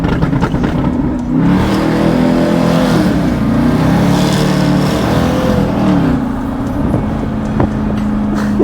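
A 700hp Jaguar XFR revs hard while drifting on an ice rally course, its engine note loud and close, rising and falling in pitch throughout with no talk over it.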